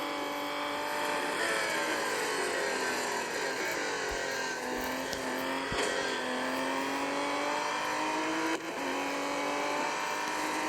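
Classic Porsche race cars in Gran Turismo run at a steady, loud, continuous engine drone with rising and falling pitch as they accelerate and shift, no voices over it.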